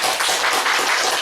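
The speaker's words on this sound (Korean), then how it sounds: "스스로 박수." Women in an audience applaud themselves in a brief, steady burst of dense clapping that fills the room.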